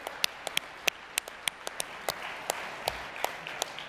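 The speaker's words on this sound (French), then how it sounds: "Oui, vous pouvez vous applaudir" Delegates at the Quebec Liberal Party's 33rd members' congress give sparse, scattered applause, with distinct individual claps ringing out unevenly over a quiet hall.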